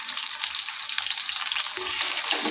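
Chopped medium-sized onion frying in mustard oil in a pan, a steady bright crackling sizzle with a few stirring scrapes, close and continuous with no talking.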